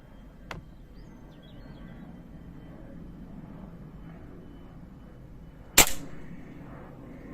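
Two sharp gunshots ring out at outdoor target practice: a faint distant crack early, then a much louder close report near the end with a short echoing tail, over quiet ambient background.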